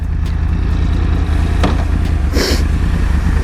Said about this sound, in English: Wow, nice sound of a crossplane engine.